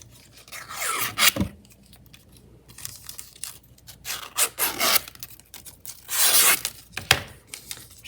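Cut paper strips being folded and curled by hand, giving loud, close crinkling, rubbing and tearing-like rustles in irregular bursts with short pauses between.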